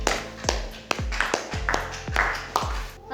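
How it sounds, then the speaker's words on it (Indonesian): Classroom clapping for a student group, heard as a run of roughly seven sharp, evenly spaced claps or taps, fairly close and distinct rather than a dense crowd wash. "beri tepuk tangan untuk kelompok 1"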